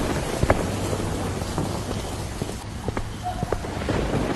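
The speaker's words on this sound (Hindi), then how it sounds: "बारिश काफी तेज पड़ रही थी" Heavy rain pours down during a thunderstorm with dark clouds, a dense steady hiss of downpour with scattered sharp drip and splash taps throughout.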